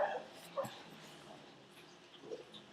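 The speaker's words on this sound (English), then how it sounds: "There's a puppy." A puppy yips and whimpers in the distance, with a few short, faint barks spread across a quiet outdoor background.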